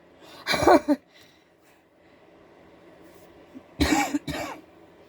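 Two separate bursts of coughing, a couple of seconds apart, loud and close, with quiet room noise between them.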